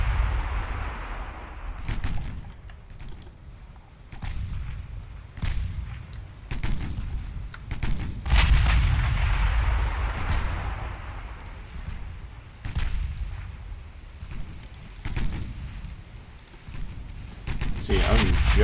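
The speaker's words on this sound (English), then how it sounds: "clipped him with a 16-inch shell and sinks immediately" Naval guns in the Ultimate Admiral Dreadnoughts video game fire 16-inch shells, producing a string of deep booming blasts and rumbling impacts at irregular intervals while someone talks throughout.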